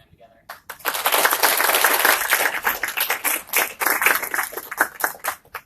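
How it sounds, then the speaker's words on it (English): An audience at the NWLA 2018 program presentation applauds for several seconds, a dense, steady patter of many hands that swells quickly and then thins into scattered claps near the end. "I would like a round of applause, first of all, for Elizabeth Hodge for helping so much putting this program together"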